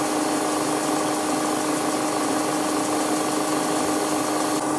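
A Smarty AT-300 machine cuts at 50 RPM with a 1 mm depth of cut, producing a constant mechanical motor hum with a steady tonal drone and no pauses.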